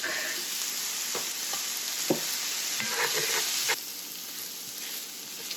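Pork hits a hot pan with garlic and fries with a constant bright sizzle, with a few scraping stirs and clatters over it, close and steady, easing slightly toward the end.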